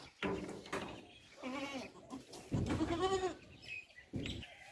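A goat bleats several times in a row, loud and close, with wavering, quavering calls separated by short pauses.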